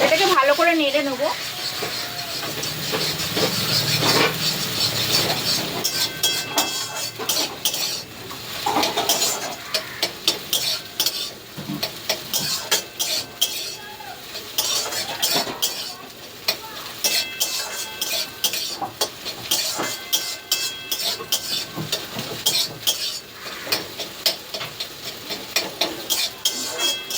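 A spatula scrapes and clinks as a frying egg is stirred in a wok on a home stove, over a continuous sizzle of hot oil, with repeated metallic knocks throughout.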